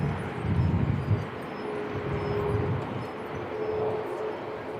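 A Fiji airliner rolls off the runway at Christchurch Airport after landing, its engines a distant, steady jet rumble and whine that swells slightly early on, then stays even and moderately loud with no talk.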